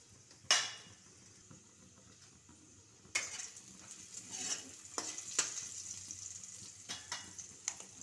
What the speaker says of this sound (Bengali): এবার মাঝখানটা একটু আমি ফাঁকা করে এর মধ্যে আমি একটু হিং ফোড়ন দিয়ে দিলাম